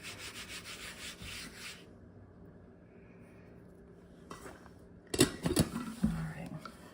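A rolling pin works pie dough for a pumpkin pie on a floured surface, giving soft rubbing, scraping passes that come close and fairly loud early on, go quiet, then return as louder knocking rolls.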